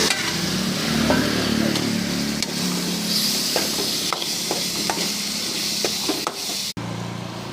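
A spoon scrapes and stirs gooseberry pickle in a hot pan, steady sizzling with repeated sharp scraping strokes, close up, ending in a sudden cut.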